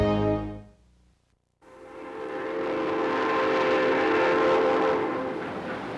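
A Durango-Silverton Railroad steam train, its whistle sounding in a strong harmonic blast at the start, then a brief gap and a loud sustained rumble of the moving train.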